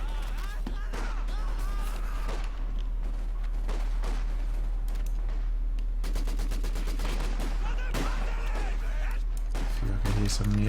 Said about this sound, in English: Yeah, I do hear some shooting on this side.